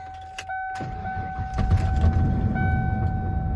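A 1994 Ford XLT starts up: a short click and whine of the starter, then the engine catches and settles into a steady idle, with a constant chime tone ringing throughout.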